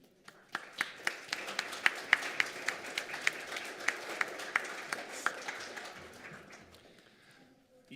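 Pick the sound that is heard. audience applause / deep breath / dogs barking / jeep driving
audience applause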